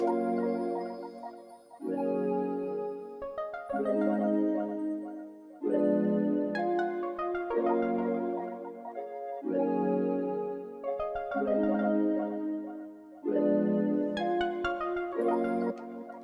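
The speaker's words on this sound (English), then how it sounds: "I've added a Repro 5 and I used that AZ finger pluck" Repro 5 synth with an AZ finger pluck patch playing a looping sequence of plucked chords in short bursts with gaps, close and clear, no voices.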